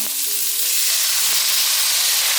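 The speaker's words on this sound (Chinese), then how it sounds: "放入玉米笋还有甜豆。 大约略炒一下" Baby corn and sweet peas with minced ginger stir-fried in a hot wok, a loud steady sizzle with a few scraping stirs, close up and without talk.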